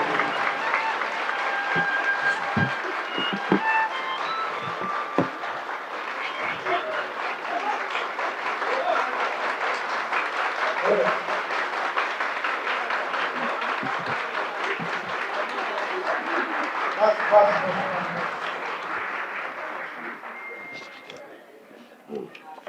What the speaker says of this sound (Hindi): जोरदार तालियां के बीच आप लोग बुलाएंगे